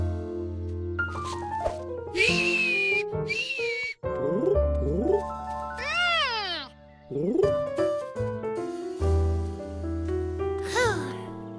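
A child's cartoon whistling to call a groundhog: a string of rising and falling melodic whistles in several phrases, close and clear, mixed with music and sliding tones.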